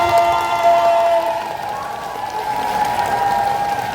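Audience applause at an OTOP fair event in Bangkok, a scattered crowd clapping under tonal music or background sound, moderately loud and continuous for a few seconds.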